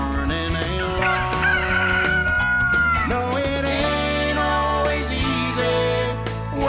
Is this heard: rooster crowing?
yes